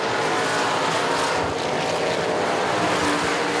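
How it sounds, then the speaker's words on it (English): Asphalt limited modified race cars roaring around Central Texas Speedway, a loud continuous engine drone from a pack of cars with no gaps, one pitch rising slightly late on. "Now here comes Tanner Whitmire in the 101 car, closing up on the 5 of Gould"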